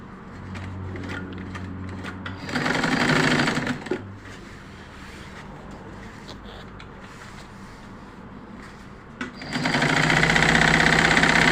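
A Butterfly sewing machine stitches steadily after being repaired and serviced, its motor rattling close up in a continuous run with louder bursts near the start and end.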